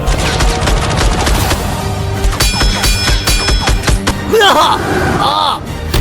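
Dense, continuous battle gunfire in an animated fantasy drama: rapid automatic bursts and booming volleys layered with shouting voices and roaring creatures, loud and chaotic throughout.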